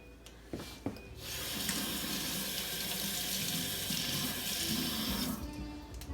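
A kitchen tap runs steadily for about four seconds as a measuring spoon is rinsed under it, with a couple of short clinks before the water starts.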